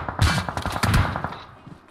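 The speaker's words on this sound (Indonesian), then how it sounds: "Lihat tuh nembak terus itu." Gunfire in the battle royale video game PUBG, a run of sharp shots in quick succession, loud and close, fading into quieter trailing reports toward the end.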